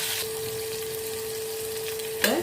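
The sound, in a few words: brinjal sautéing in a pan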